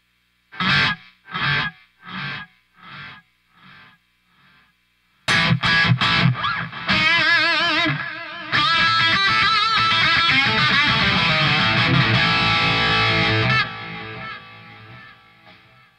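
An electric guitar through the Tonebridge app with a wide delay effect. A few plucked notes are spaced out, then distorted strummed chords ring with repeating echoes before fading.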